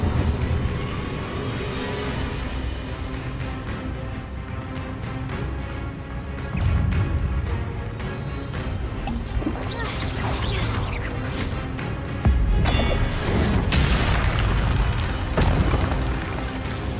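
The Incendio fire spell is cast in the Hogwarts Legacy video game on PS4, bursts of booming, crackling fire and impact sounds over continuous game ambience, with several louder blasts.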